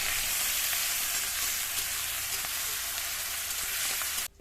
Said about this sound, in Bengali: ওই তেলের মধ্যে তেজপাতা আর গ্রেট করে রাখা মশলাটা দিয়ে বেশ লাল লাল করে ভাজবো।